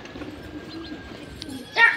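Rooftop pigeons give soft, faint coos against low background hiss, ending in a brief louder rustle or flutter.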